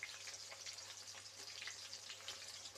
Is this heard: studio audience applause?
no